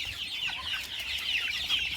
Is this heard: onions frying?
no